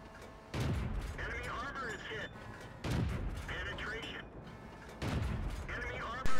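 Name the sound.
tank gunfire in the video game World of Tanks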